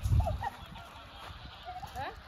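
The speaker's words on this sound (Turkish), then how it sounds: "Kazlar tavukları döver." Farmyard geese let out a few short nasal honks, faint and somewhat distant, over low thumping handling noise and quiet background ambience.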